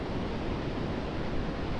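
Water waves rushing in toward the shore, a dense, steady wash of surf noise close by, with wind buffeting the microphone.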